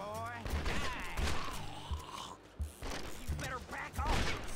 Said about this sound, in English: Reload my six, shoot Peter.